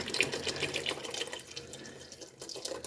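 Water is poured into a cooking pot holding squash, producing a soft continuous splashing and trickling that thins out partway through, fairly quiet and with no voices.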